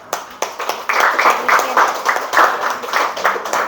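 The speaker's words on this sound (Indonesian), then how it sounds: "Kasih tepuk tangan dulu ya." Classroom applause from students at the close of a teaching session, a short burst of hand clapping that starts scattered and then fills in steadily, fairly close and lively, with some voices mixed in.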